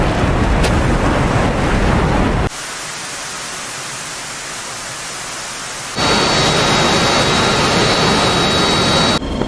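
Steady roaring F-16 jet engine in the DCS World flight simulator, a loud broadband rush that drops to a quieter hum midway and then swells back up with a faint high whine, with no talk.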